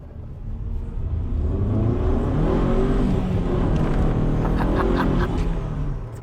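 A Vauxhall Astra 2.0 16v turbo estate accelerates hard, its engine rising in a steady loud drone and rumble from inside the car, pulling strongly throughout with no talk.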